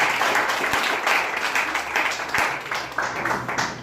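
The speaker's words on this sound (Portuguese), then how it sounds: "Uma salva de palmas para Jesus" Church congregation applauding together at an emancipation ceremony, a steady dense wash of clapping throughout with a few sharper individual claps standing out.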